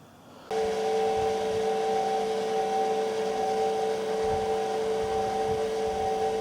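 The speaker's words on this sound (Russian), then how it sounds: "можно проверить, как работает стиральная машина" An Indesit washing machine with replaced drum bearings starts up abruptly and runs steadily, a loud, even mechanical hum with a constant tonal drone and no other sounds.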